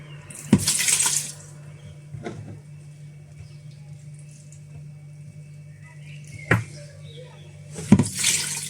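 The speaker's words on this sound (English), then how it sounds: "we are going to be adding 400 grams of water, not just a tap water, not drinking water. We are using the distilled water" Distilled water poured into a container while mixing homemade lotion, heard as two short splashy bursts of pouring at the start and end, separated by a faint tap, over a steady low electrical hum.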